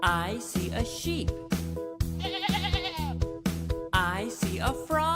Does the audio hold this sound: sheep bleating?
yes